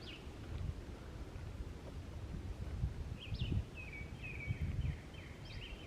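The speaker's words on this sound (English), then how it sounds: "You hear the birds?" Birds sing outdoors in a wooded state park, several short whistled chirps and trills repeating in the second half over soft wind and rustling, moderately distant and fairly faint.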